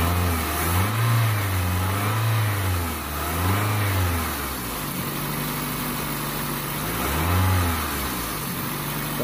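A Toyota car engine runs close by, its low drone rising and falling in slow, repeated rev swells over a steady idle, with no voices.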